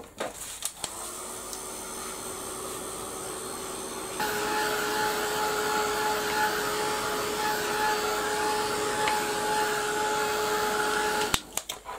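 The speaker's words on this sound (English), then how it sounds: "I'm going to give that a quick blast with the heat gun." A heat gun blows hot air over a gessoed craft piece, a steady loud whooshing hiss that runs continuously for most of the clip, growing a little stronger partway through and cutting off near the end.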